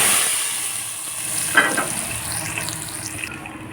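A tempering of cumin and green chillies sizzles in hot oil for daal, a loud, close, steady frying hiss with a brief burst as the spices hit the pan.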